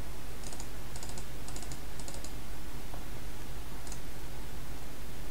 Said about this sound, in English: Don't mind my excessive clicking.